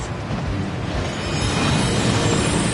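Thief's Downfall, a waterfall in the video game Hogwarts Legacy, pours down as a steady, dense rushing roar that swells slightly louder toward the end, with no voices.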